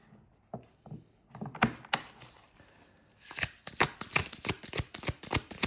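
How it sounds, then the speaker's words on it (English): A deck of tarot-style reading cards being shuffled by hand, starting with a few soft taps and riffles, then a fast run of crisp, rhythmic shuffling close to the microphone with no talk. "That was a lot of cards that came out"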